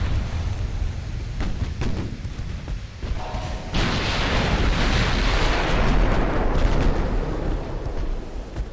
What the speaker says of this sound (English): One more salvo ought to do it.